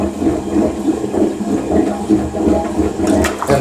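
A toilet that had recently been plugged and plunged flushes loudly nearby, water rushing and gurgling down the drain pipe in a steady churning surge for several seconds, with no talk.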